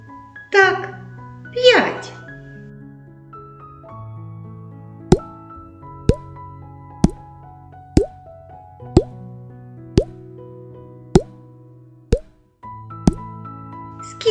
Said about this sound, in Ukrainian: скільки крапель впало?